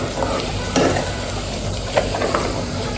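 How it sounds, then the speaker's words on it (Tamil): Onions sautéing in oil for biryani, a close, steady sizzle with a few scraping stirs and light utensil knocks, no voices present. "ஸோ காய்ஸ் வெங்காயம் வந்துட்டு வதங்கிட்டு இருக்கு"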